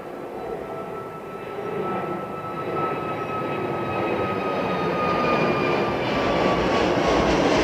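A jet airliner departing London Heathrow on runway 09R, a broad, steady engine roar that builds gradually with a faint whine on top, heard from a distance with no one speaking.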